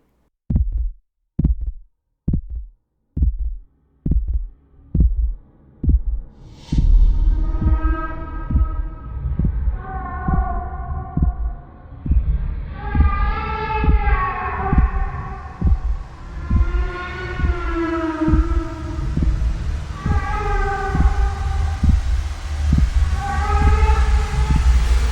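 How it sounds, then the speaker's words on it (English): Sweeping, reversed sound-design tones from the Steinberg Transverse software instrument: a run of sharp rhythmic pulses gives way to swelling, layered pitched sweeps over a steady throbbing beat, loud and continuous with no talking. "Transverse, it is actually a sound design VST that's designed for expressive sweeps, transition, reverse sounds, and so on."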